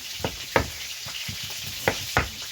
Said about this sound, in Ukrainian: поки тут усе в нас кварчить